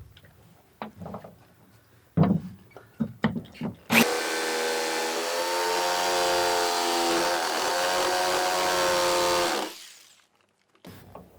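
A jigsaw fitted with a Bosch diamond-tip blade cuts James Hardie fibre-cement board, a loud, steady, close buzzing run of about six seconds after a few short knocks and handling sounds.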